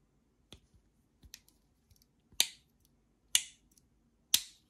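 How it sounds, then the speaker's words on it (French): A series of sharp mechanical clicks from a Victorinox Ranger Swiss army knife folding shut, the last three louder and crisper, spaced about a second apart against a quiet background. "il n'y a que les couteaux suisses d'après eux qui fait ce bruit là quand vous quand vous remballez tout"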